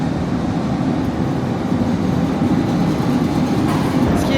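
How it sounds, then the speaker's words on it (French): A Rome metro train arriving at a terminus station, a loud steady rumble of wheels and carriages filling the platform throughout, with no voices. "Il est là le métro."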